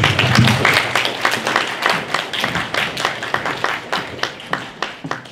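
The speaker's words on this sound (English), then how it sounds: "we're going to ask you to keep the applause to a minimum" Audience applause at a Prince William County House of Delegates candidates' debate, a loud burst of many hands clapping that thins into scattered individual claps as it dies away.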